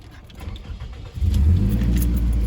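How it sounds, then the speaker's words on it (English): A Toyota Camry with 240,000 miles and an exhaust leak idles, then its engine swells into a loud, steady low rumble up close, continuing without pause. "it's got an exhaust leak"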